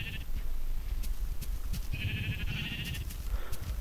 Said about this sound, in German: Ey, Schaf, geh weg da.